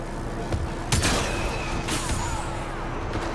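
Turret fire in a Star Wars Battlefront match, with a few sharp blasts and a couple of heavier booms standing out over steady battle noise, fairly loud and close.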